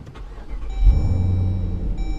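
Supercharged engine of a 2018 Jeep Trackhawk cranks and fires up, a short starter whir followed by a deep rumbling idle close by, with a high electronic tone in the background.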